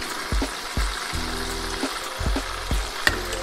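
Steady sizzling of chicken frying in hot oil, with occasional thumps and a low hum running underneath, no voices.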